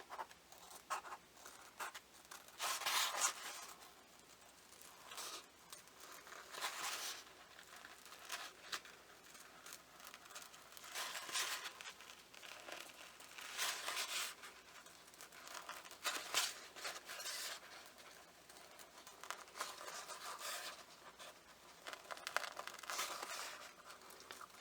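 Scissors cutting decorative glitter-covered pieces out of a hat brim in a workroom, a steady run of soft snipping, crinkling and rustling bursts, close and fairly quiet, with no talking.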